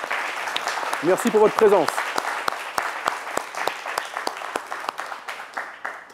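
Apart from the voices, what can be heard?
audience applause in TV studio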